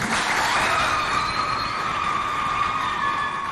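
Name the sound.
audience applause for a student's correct answer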